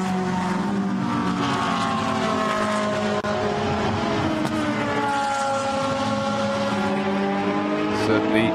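Lamborghini Huracan GT race car in a Blancpain GT Sports Club qualifying race at Circuit de Catalunya, engine screaming loud and close with rising and falling gear pitch, other cars roaring alongside, commentary talk over it.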